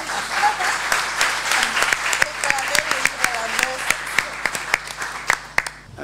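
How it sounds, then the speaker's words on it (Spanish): An audience at the CUMIPAZ 2016 educational panel session applauds steadily for about six seconds. The clapping is dense and continuous, with sharper individual claps standing out, and a faint voice can be heard under it before it eases off at the end. "Un fuerte aplauso, por favor."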